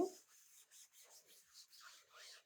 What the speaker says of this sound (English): Just rub it over your silk screen.